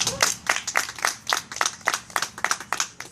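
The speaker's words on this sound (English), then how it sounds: "Give them a round of applause." Applause at a company anniversary speech, individual claps distinct and rhythmic from a modest audience, fairly faint, with no talk over it.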